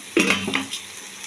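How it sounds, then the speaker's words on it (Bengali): Chickpeas and peas for chana masala tip into a cooking pan with a sudden clattering rush that quickly dies away into a faint sizzle. "এবার দিয়ে দিচ্ছি আমি মটর, চানা মটরগুলো দিয়ে দিচ্ছি"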